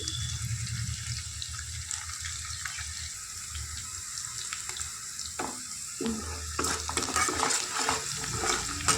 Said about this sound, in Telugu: ఆనియన్స్, మిర్చి కొంచెం లైట్ బ్రౌన్ షేడ్ వచ్చే వరకు కొంచెం వేయించుకోవాలి